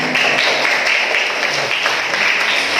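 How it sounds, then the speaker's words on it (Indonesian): Brief burst of applause from a group, steady clapping filling the whole moment. "Tepukan."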